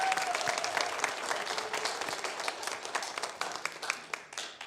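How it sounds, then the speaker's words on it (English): A church congregation gives a round of applause during a Sunday service, steady full-room clapping that stays loud throughout, with a few cheers. "Let's give them another round of applause."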